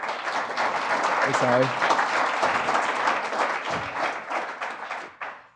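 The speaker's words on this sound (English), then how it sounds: "Let's give him a big round of applause." Audience applause breaks out at a startup showcase as a presenter is welcomed to the stage, sustained clapping filling the room for several seconds before tapering off, with a brief spoken aside partway through.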